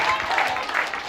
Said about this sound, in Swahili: unaweza shangilia Bwana kwa makofi na vigelegele